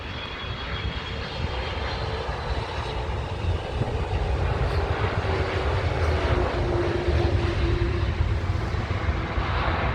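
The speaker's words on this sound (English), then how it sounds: "It looks like an A330 to me. It is indeed Alitalia." An Alitalia Airbus A330 at London Heathrow gives off a loud, continuous broadband jet roar that holds steady throughout, with no voices over it.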